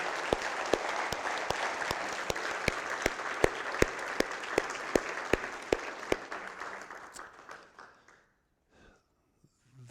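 Audience applause for a speaker: a crowd claps steadily with some individual sharp claps standing out, then the clapping thins and fades to near silence.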